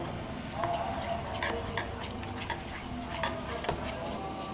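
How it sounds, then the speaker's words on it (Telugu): Upma rava idli batter with added tempering is mixed by hand in a bowl: a steady, close scraping and swishing of a spoon through thick batter, with light clinks of metal against the bowl throughout. "ఇప్పుడు దీన్ని మొత్తం కలిపేద్దాం."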